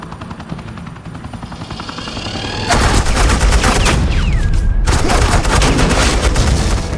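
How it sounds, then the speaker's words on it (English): Inside a Batman video game, a helicopter's rotor chop builds under distant shots until dense suppressing gunfire erupts, loud rapid bursts with a short gap before they resume. "Suppressing fire."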